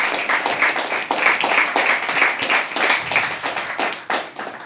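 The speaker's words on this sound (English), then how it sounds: "Can we all please clap for them? Loudly, man, come on." Audience members at a live poetry open mic clap loudly, a fairly small group producing a rhythmic, close and bright patter of hands that swells in waves over a few seconds.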